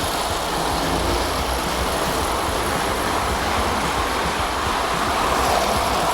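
A Unique Art tin toy train with Hafner cars runs along its track, giving a steady, close, continuous metallic rolling rumble and rattle with no pauses and no talking.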